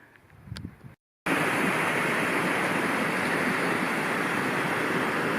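A river on Dartmoor rushes steadily and loudly, a broad, unbroken flow of water noise that starts after a brief silence, with no voices.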